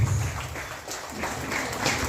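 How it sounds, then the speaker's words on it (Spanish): A crowd at a quinceañera celebration in Livingston, Guatemala, applauds loudly in honor of departed family members, a dense wash of clapping that swells and dips slightly, with a low rumble of room noise beneath. "regálenme por favor fuertes aplausos para nuestros familiares que ya no están con nosotros"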